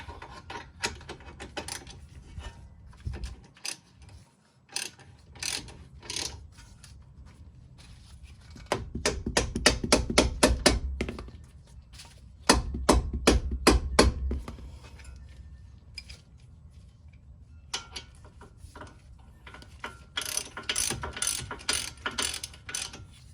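A ratchet wrench tightens the brake caliper bolts on a Lexus CT200H during a front rotor and brake pad job, giving close bursts of rapid metallic clicking with brief pauses between runs and no talking.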